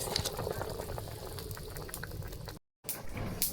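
Thick fish curry bubbling and popping steadily in a pot over a wood fire, a continuous simmering boil with a brief dropout near the end.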